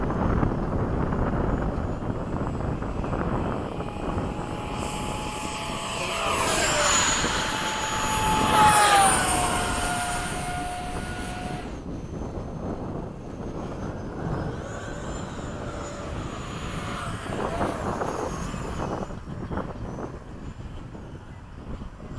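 An FMS 70mm F/A-18 radio-controlled jet flies past with a rising whoosh and whine that swells loudly mid-clip, then fades to a distant hum amid wind noise; a person speaks briefly.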